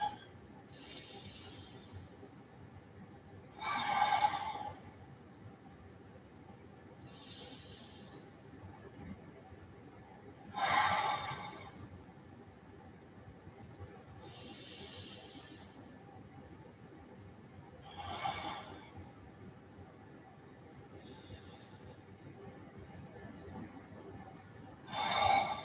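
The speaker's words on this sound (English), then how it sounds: "I'll start with 3 or 4 nice, full," Several slow, full breaths drawn and released at spaced intervals, each audible as a soft breathy rush over a quiet, steady background hum.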